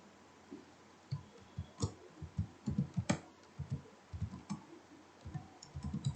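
Clicky keystrokes on a computer keyboard tap out in irregular bursts, close and distinct against a quiet room, with short pauses between runs of typing.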